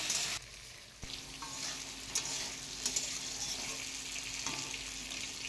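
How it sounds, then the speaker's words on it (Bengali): Potatoes frying slowly in a pan for a thin fish curry with drumsticks, a steady close sizzle with occasional stirring scrapes and small bumps, no talking. "আলুগুলোকে হালকা আছে একটু টাইম নিয়ে ভাজবো, যেন আলুগুলো ভাজতে ভাজতে কিছুটা নরম হয়ে যায়।"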